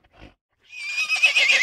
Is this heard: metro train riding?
no